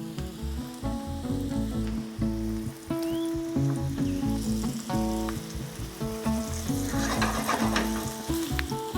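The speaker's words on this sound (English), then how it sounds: "preheat a large frying pan and add a little oil before frying them until" Tempeh fries in a little oil in a large preheated frying pan, a steady close sizzle with crackling pops and occasional scraping clinks of a utensil turning the pieces.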